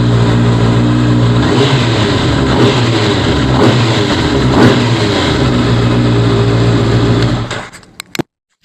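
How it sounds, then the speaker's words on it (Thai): A 2020 Honda CBR650R sport motorcycle engine idles close by with a steady exhaust rumble and a couple of light revs, then cuts off near the end. "มาฟังเสียงเครื่อง แล้วก็เสียงท่อกันดีกว่า"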